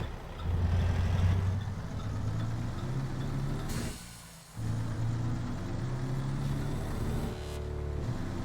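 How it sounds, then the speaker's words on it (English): Road traffic passing on a busy road, several vehicles rolling by one after another with rising and falling rumble and engine tones, a brief lull midway, no voices. "A lot of traffic on this road already."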